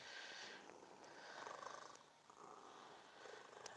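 An old cat purring close by, a steady soft rumbling purr that swells and eases in breaths, quiet and continuous with no talk.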